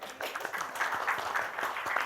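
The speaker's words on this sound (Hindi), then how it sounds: "ये अतरंगी की टीम है उनके लिए जरा तालियां बजाओ यार" Applause for the Atrangi team from an audience at an OTT reality show event, a brief patter of scattered claps at moderate distance, fairly faint and alone.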